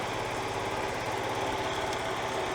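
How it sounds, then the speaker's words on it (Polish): A scooter with a Continental M4L fuel injection system idles close by, a steady, even buzzing putter with a faint ticking of the injector, unbroken and moderately loud throughout. "No i skuterek pracuje."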